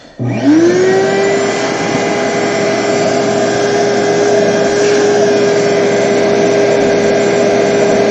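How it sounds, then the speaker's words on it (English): A vacuum cleaner starts up and runs to clear dust from a freshly cut pocket, a loud, steady droning whine close by that rises to full speed in the first second and holds without talk. "So we're just going to vacuum up and have a look."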